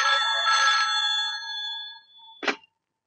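A telephone rings in a Hindi action film scene, giving one long electronic ring that fades out, followed by a short second burst that cuts off abruptly.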